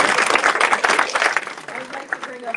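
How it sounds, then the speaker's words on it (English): An audience at a university white-coat bag ceremony claps, a short burst of dense applause that fades into scattered claps as a voice speaks over it. "yes, clap."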